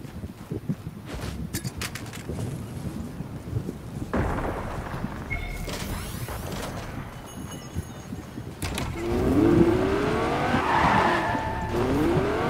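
Tires squeal and a car skids during a video game match, the engine and screech building to a louder, sustained slide near the end with no talk over it.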